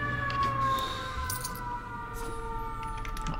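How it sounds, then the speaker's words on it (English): Siren wailing outside a home, a steady high tone with sweeping overtones that holds across the whole stretch, moderately loud amid background hum, with no one talking. "Also, the siren."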